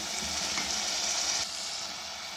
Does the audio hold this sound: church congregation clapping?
no